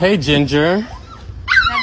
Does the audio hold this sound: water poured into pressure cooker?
no